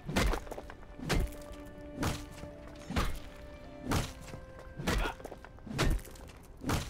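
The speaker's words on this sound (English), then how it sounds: "We can do that while we're pounding on the rocks" Repeated heavy pounding on rock in the fantasy game Dark and Light, about seven loud thunking blows struck at a steady rhythm roughly once per second, each with a crunchy impact over a low background hum.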